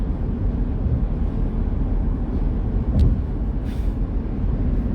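Inside a car moving along a highway, a steady loud rumble of road and wind noise fills the cabin, with a faint brief click or squeak.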